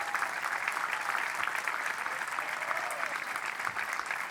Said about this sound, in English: Huge round of applause from all in attendance, as well as the Washington County team.